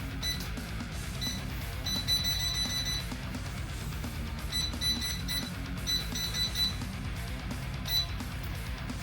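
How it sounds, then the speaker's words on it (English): An air fryer gives repeated short, high electronic beeps in quick clusters as it is switched on for cooking wings and waffle fries, each burst separated by quiet kitchen background. "Get this air fryer kicked up."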